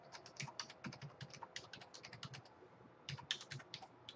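Rapid keystrokes on a computer keyboard as a password is entered, a steady run of close, crisp clicks with a short pause near the middle before another quick burst.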